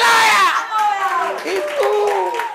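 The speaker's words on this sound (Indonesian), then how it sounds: "sorak-sorai buat Tuhan." A church congregation cheering in worship: a loud, close crowd of raised voices and shouts swelling and falling in overlapping waves for a few seconds.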